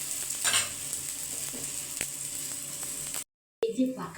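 An omelette of egg and ripe mango sizzles loudly in a pan and is flipped with a scrape and clatter, then the sizzle briefly cuts out before resuming.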